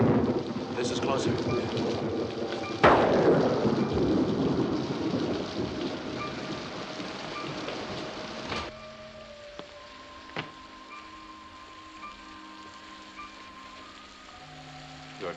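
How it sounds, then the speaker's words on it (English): Steady rain pours with a loud, near crack of thunder that rolls and fades over several seconds, then the rain continues more quietly with faint rumbles and a few sharper distant claps. "It's raining."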